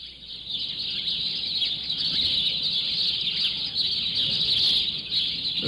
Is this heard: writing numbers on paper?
no